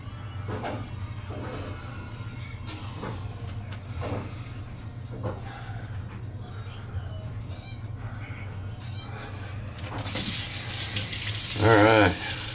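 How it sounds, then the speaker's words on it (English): Hot water running from a bathroom tap while a shaving razor is rinsed, a faint clatter and tapping at first, then a steady hiss of flowing water for the last couple of seconds. "I always rinse in hot water."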